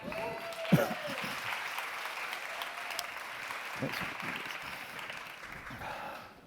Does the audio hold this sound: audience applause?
yes